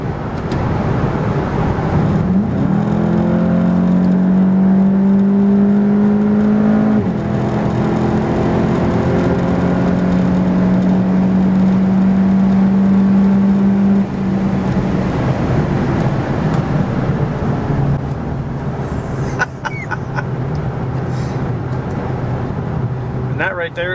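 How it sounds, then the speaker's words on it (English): A 2019 VW GTI TCR's engine and exhaust rev up in sport mode and hold a high, droning pitch, loud and close, with a road rumble throughout. "the exhaust on this car, when you put it in the sport mode,"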